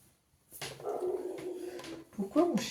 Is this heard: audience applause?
no